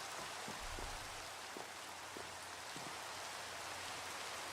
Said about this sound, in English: Very happy about this rain.